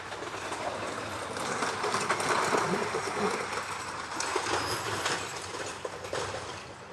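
An old wooden roller coaster train, the world's oldest at Lakemont Park, rumbles and clatters along its track at moderate distance, a steady rolling noise with clacking, while people talk over it.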